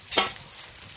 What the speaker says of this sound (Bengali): মাছটা ভাজা হয়ে গেছে, তুলে নিচ্ছি।